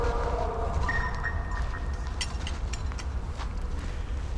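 Low rail rumble with faint metallic squeals and clanks as train wagons are shunted slowly in freezing winter conditions in Yaroslavl, Russia, heard from a moderate distance.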